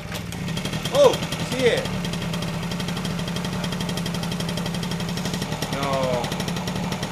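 A Gilera Trend scooter engine, unused for over ten years, runs with a steady low rumbling drone throughout, under a couple of brief spoken exclamations near the start.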